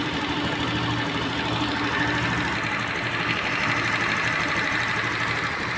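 A Honda Vario 125 scooter engine runs with a steady, buzzing drone and slight knocking texture, held at a constant rev throughout, close and loud with no speech.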